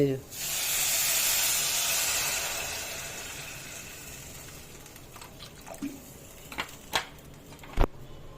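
Water poured into a hot pan of fried foxtail millet seasoned with turmeric and salt sets off a loud steaming hiss that slowly fades over several seconds, followed by a few sharp clicks and pops.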